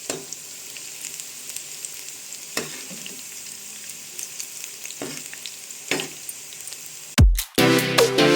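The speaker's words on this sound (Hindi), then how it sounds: "इनको क्रिस्प होने तक फ्राई होने देंगे" Potato and onion pakoras frying in hot oil until crisp, a steady close sizzle broken by a few scraping turns of the spoon, with a louder clattering burst at the very end.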